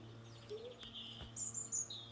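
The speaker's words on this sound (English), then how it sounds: "You can actually hear a pigeon now" A pigeon calls outdoors in a few short, high chirping notes that rise over a low steady hum, faint and fairly close, with no talking.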